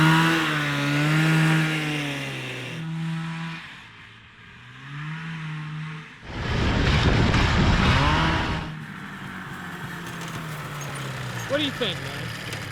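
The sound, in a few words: 440cc engine of Murray go-kart running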